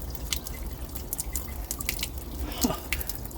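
Water drips from a leaking fitting, scattered bright drips over a low steady background rumble, fairly close and irregular in timing.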